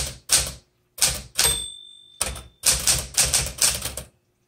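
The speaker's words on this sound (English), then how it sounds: "This is a fabulous typewriter" Clacking keystrokes and carriage noises of a 1968 Classic 12 manual typewriter in short bursts, with a ringing bell tone and brief pauses, very close.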